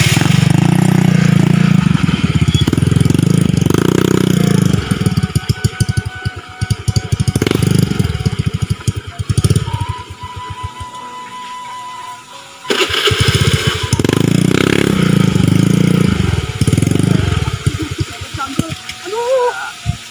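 Motorcycle taxi engine running close by, a loud buzzing idle that sputters and drops out midway before picking back up, with people talking over it.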